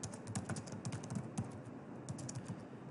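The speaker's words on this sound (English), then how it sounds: "here's when you'll start typing in your issues" Typing on a computer keyboard, a faint, quick run of irregular key clicks with small pauses, heard alone against a quiet background.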